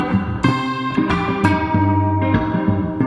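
Guitar picking melody notes from the chord tones in a Western Latin instrumental style, with distinct plucked notes ringing over a sustained low accompaniment, clear and close, with no voices.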